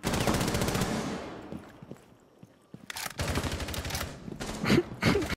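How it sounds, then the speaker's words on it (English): Bursts of automatic gunfire in the video game Fortnite: a dense rapid stream of shots fades out, then after a lull more loud bursts and single shots break in close. "Start shooting like crazy."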